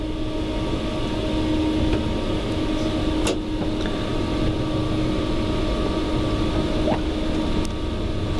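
A Virgin Trains service to Edinburgh Waverley pulls out of Preston station, a steady rolling rumble with a faint whine and occasional clicks and squeals of the wheels, heard from on board and continuing without a break.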